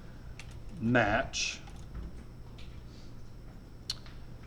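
A few sparse, light clicks from a computer keyboard are heard as someone types, with a soft voice speaking briefly among the keystrokes.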